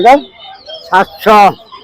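Three loud, close clucking calls from chickens at a poultry market, with short pauses between them, the last one longest.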